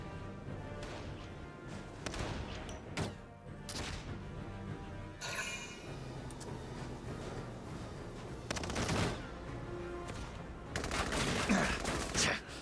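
Heavy gunfire bombardment in the Valkyria Chronicles 4 battlefield, with dense overlapping bursts and repeated blasts that keep going the whole time, building louder toward the end.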